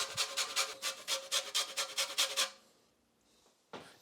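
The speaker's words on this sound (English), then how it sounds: "Next, we're gonna zest a lime." A lime is zested in about a dozen quick, even rasping strokes over a grater, close and fairly quiet, followed by a short pause and a faint final scrape.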